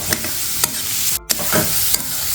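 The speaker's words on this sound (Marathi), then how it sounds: "आता हे छान परतून घेऊ।" Vermicelli upma sautéed and stirred in a pan, a steady close sizzle broken by a few scraping stirs, with no talking.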